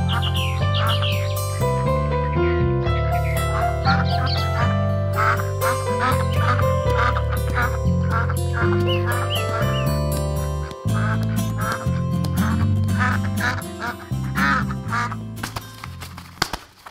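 Goose honking and quacking calls in an animated moral story about a goose that lays golden eggs, repeated loudly over continuous cartoon background music with no talking.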